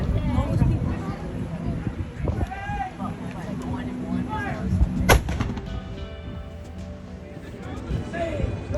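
Rapid rifle shots crackle in game-style bursts, one sharp blast standing out, over a busy, noisy background with some voices.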